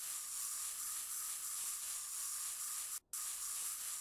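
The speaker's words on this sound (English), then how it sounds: "This is spray paint. This is not an airbrush." Spray paint hisses from a can in the video game Workshop Simulator, a steady, even spray that runs almost continuously with one short break.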